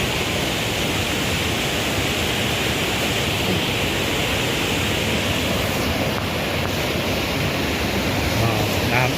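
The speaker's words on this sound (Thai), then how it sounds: "นี่ตรงนี้น้ำตกชั้นสองครับ" The second tier of the Kao Chan waterfall in Ratchaburi, Thailand, pours in a loud, continuous hiss of falling water from close by, with no break.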